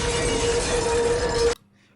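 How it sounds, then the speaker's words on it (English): A broken glass sound effect layered in a game-related music track: a dense, loud crash of shattering glass with a steady ringing tone through it, cutting off abruptly into near silence after about a second and a half. "So he's got noises of broken glass."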